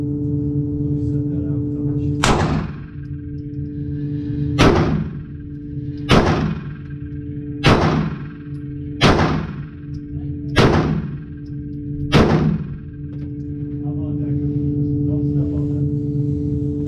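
Seven sharp shots from a Springfield XD-S Mod 2 OSP pistol firing brass ammunition at an indoor range target ten yards away, spaced about one to two seconds apart over a constant ventilation hum.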